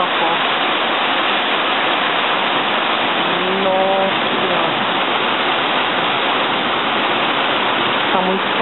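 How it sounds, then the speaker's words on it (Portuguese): Steady, dense hiss of heavy rain pouring down in Switzerland, heard from a third-floor window, constant and loud throughout, with a faint tonal sound briefly rising in the middle. "Olha como a chuva tá forte"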